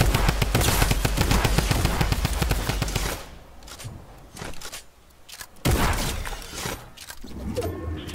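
Rapid automatic gunfire in Fortnite, loud and dense bursts for about three seconds, then sparser shots and game effects trailing off with a few later bursts.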